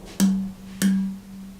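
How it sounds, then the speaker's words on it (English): An empty plastic water bottle gives two hollow, resonant thunks about half a second apart, each with a low ringing tone that fades quickly, close and fairly loud. "that's the sound of an empty water bottle"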